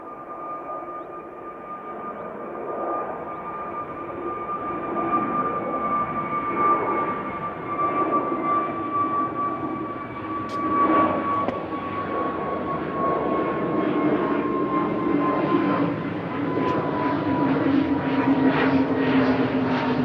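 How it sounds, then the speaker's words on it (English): An easyJet jet departs Manchester for Jersey, a rising engine whine with a steady tonal hum riding over a growing roar, moderately loud and heard on its own. "EasyJet 727 there, heading over to Jersey."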